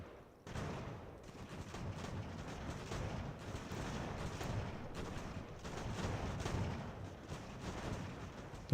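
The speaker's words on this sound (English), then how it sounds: "so we may be up against artillery again" Artillery fire in the strategy game Ultimate General: American Revolution, during the Fort Ticonderoga battle: a faint, continuous rumbling barrage of overlapping distant cannon and musket reports, without talk.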